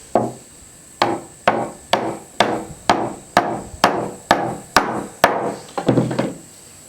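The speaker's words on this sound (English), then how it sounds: "And then I'm just going to set it down here on the bench and drive it home." Belt axe head from a 1751 kit being driven onto its wooden handle on a bench, about a dozen sharp, loud hammer blows in steady rhythm, close and with no talk.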